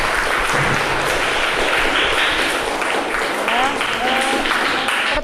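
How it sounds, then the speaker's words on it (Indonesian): A classroom gives a round of applause for a student named Dinda, steady clapping from many hands lasting several seconds while a teacher speaks over it. "berikan tepuk tangan untuk Dinda"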